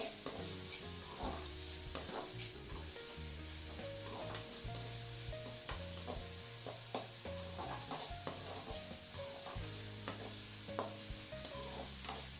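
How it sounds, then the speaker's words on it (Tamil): Onions fry with half a spoon of salt in a pan for mushroom gravy, a soft sizzle with repeated stirring scrapes and light utensil knocks under background music. "வெங்காயம் நல்லா பொரியறதுக்காக ஒரு அரை ஸ்பூன் உப்பு, சால்ட் உப்பு சேர்த்துக்கலாம்"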